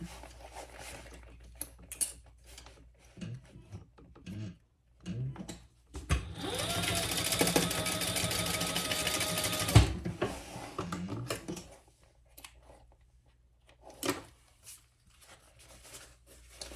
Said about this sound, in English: And let's just sew those up.